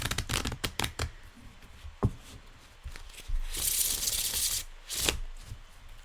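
A deck of Art Nouveau–style tarot cards is shuffled close up, with a quick run of riffling slaps at the start, then soft sliding and rubbing of cards, with brighter bursts of shuffling near the middle and end.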